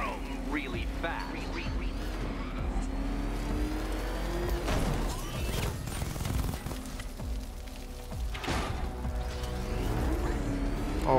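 The Batmobile's engine rumbles and revs steadily in Batman: Arkham Knight, with a low continuous drone under a talking voice and bursts of action noise.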